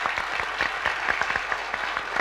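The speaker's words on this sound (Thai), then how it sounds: "ขอเสียงปรบมือให้กับสาธิตมหาวิทยาลัยเชียงใหม่ครับ" Audience applause at a televised student science competition, a continuous, even wash of many hands clapping at moderate distance with only faint voices beneath.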